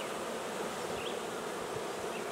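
Honey bees of an Alberta-bred colony buzz in a steady, dense drone on a hot early-July day around their hives, a close, continuous hum with no voices.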